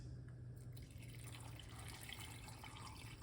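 Water is poured into a cooking pot over vinegar and other ingredients, giving a faint, steady splashing trickle with no talking.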